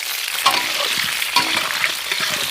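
Bay leaf, whole cumin, whole onions and cut potatoes fry in hot oil for Kolkata-style mutton biryani, a loud close sizzle with a few clattering stirs and scrapes and no talking.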